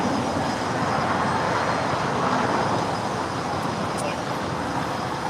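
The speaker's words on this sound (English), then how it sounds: "that Skylease Cargo 747 heading to Wuhan, China. She is now rolling down 25 right." A Skylease Cargo Boeing 747 freighter rolls down runway 25 right at Los Angeles International on its takeoff run, a loud, steady roar of jet engines that fills the whole stretch without a break.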